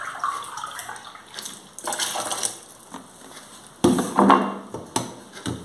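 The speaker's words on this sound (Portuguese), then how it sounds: "2 xícaras de água." Water poured from a cup into a pot for homemade banana candy, several uneven splashing pours with clinks and pauses, close and fairly loud.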